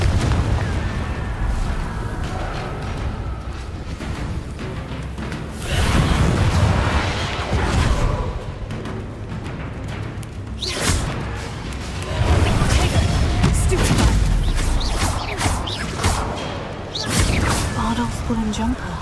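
Confringo fire-explosion spells in Hogwarts Legacy go off repeatedly, a string of loud booming blasts and crashes with crackling debris, mixed with voices talking over the game action.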